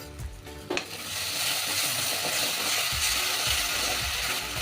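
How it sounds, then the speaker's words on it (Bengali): Prawns and pointed gourd sauté with yogurt over low gas for a dopiyaza, a loud continuous sizzle with repeated stirring scrapes and a metallic clink early on; no one talks. "গ্যাসটা কম করে টক দইটা দিয়ে দিলাম"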